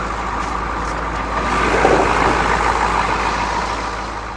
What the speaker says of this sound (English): hopefully you can hear the engine.